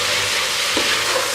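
Ginger-garlic paste fries in a pan for mutton biryani made in a pressure cooker, with a loud, close, continuous sizzle and light stirring scrapes, and no talking.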